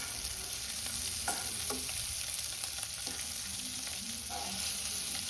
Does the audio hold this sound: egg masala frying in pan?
yes